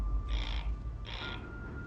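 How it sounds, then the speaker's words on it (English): A bird squawking as it flees across a pond at night, two harsh raspy calls about a second apart, fairly close, over a low background rumble. "squawking all the way."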